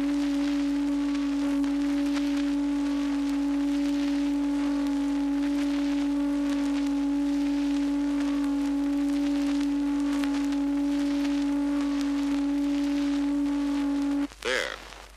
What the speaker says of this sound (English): You've heard two different tones, one at a time.